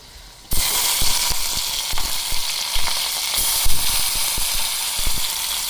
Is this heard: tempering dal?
yes